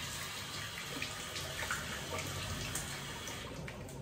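A tap runs steadily into a sink as warm water is used to wet the face before shaving, giving a continuous faint hiss and splash with no talking.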